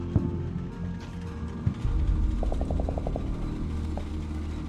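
A StuG assault gun in Combat Mission: Battle for Normandy rumbling forward through mire, a low, heavy engine drone with clanking, ratcheting track and gear noises and a short run of rapid mechanical ticks.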